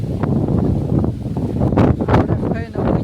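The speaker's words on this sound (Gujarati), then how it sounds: "પવન જોરદાર છે" Strong wind buffets a rooftop terrace, making a loud, constant low rumble of gusts against the microphone with brief rustles and a faint fluttering near the end.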